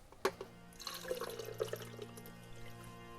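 Developer liquid pours into a film developing tank for semi-stand development of film, a sharp splash at the start giving way to a steady, close trickle and gurgle that fades over a few seconds.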